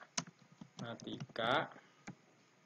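Fast typing on a computer keyboard in Microsoft Word, with quick soft key clicks heard faintly under a voice speaking nearby.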